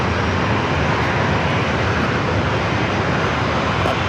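An airliner departs from runway 27 at San Diego airport, its jet engines a loud, steady broadband roar filling the whole stretch without pause.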